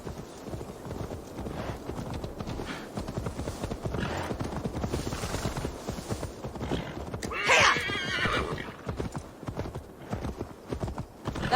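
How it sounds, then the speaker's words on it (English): In Assassin's Creed Valhalla, a horse's hooves clip-clop in a fast continuous rhythm, and a sharp whinny breaks through partway, loud and close. "Now to deliver Magni his horse."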